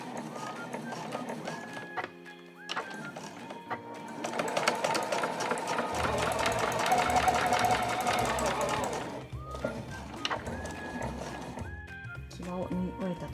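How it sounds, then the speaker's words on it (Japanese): A sewing machine runs a backstitch along the folded edge of a canvas A4 flat tote bag, its steady mechanical whir climbing in the middle stretch and easing off, with a voice talking over parts of it. "では返し縫いからスタートします"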